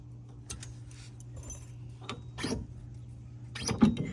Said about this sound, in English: You're going to pull these pins out here